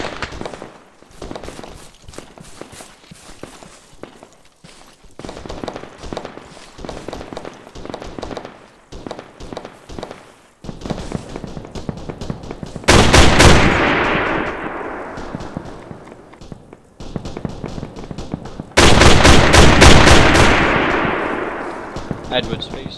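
Friendly gunfire in the ArmA 3 combat game crackles in rapid, scattered bursts, broken by two loud, heavy booms that ring out and decay slowly.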